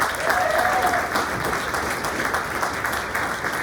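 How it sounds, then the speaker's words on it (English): A crowd at a candidates forum gives sustained applause, a dense and even clapping that fills the whole stretch. "Let's give them another round of applause."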